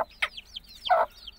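A hen with her chicks clucks nearby, a few short clucks mixed with faint high chick peeps, close and clear over quiet surroundings.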